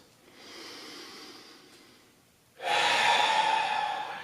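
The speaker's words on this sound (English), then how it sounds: "Take a few breaths." Slow, deep breathing in a quiet room during a hand massage: a soft, gentle inhale swells and fades, then after a brief pause a much louder, breathy exhale rushes out close by and trails off, with no talking.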